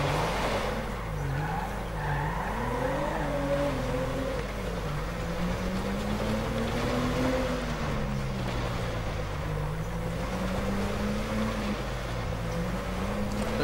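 A Toyota Corolla with a 1300cc engine in GTA5 drives off-road, its engine droning steadily with wavering, strained pitch and tire noise throughout, loud and continuous.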